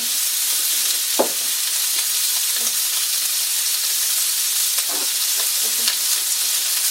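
Pork chops fry in a cast iron pan with a steady, bright sizzle, broken by a few soft clinks and scrapes.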